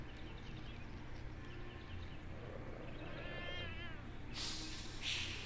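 A cat in the video game Jenny LeClue gives a wavering meow partway through over a steady low ambient hum. A bright burst of noise follows near the end.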